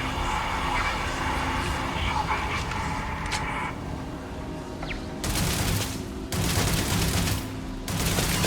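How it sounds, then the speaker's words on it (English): Hostile turrets in Starfield open fire in bursts, dense crackling volleys that start and stop over a humming sci-fi background and game sounds. "Okay, these turrets are hostile, I think."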